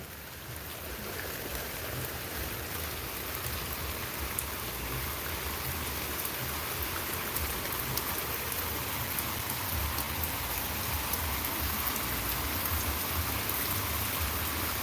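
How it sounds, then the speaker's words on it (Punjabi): Heavy rain pours down steadily, a dense, constant hiss with no pauses and no voices. "ਬਾਰਿਸ਼ ਫਿਰ ਤੇਜ਼ ਹੁੰਦੀ ਹੋਈ"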